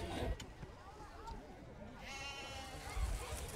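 Sheep bleat in a crowded pen of roughly 15,000 animals, with several overlapping bleats and a busy crowd murmur, and voices talking nearby.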